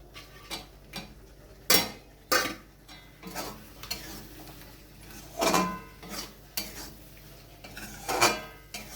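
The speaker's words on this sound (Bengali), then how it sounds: "চিংড়ি মাছটা দিয়ে ভালোভাবে মিশিয়ে নিলাম পালংয়ের সাথে।" Prawns being stirred into spinach in a pan as palak chingri cooks: a series of scattered clinking scrapes of a utensil against the pan, each a sharp close knock, with no talking.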